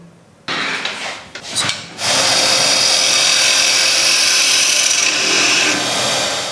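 A power tool trims the front of a wooden box, starting with a few short rubbing passes before settling into a loud, steady, close grinding whine that holds without pause.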